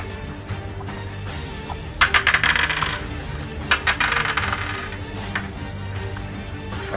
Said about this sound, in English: Are those dice I hear?